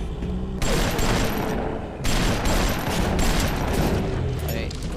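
Sustained bursts of gunfire in the shooter game BioShock, loud and dense with overlapping shots and a brief pause near two seconds, a voice faintly under the barrage.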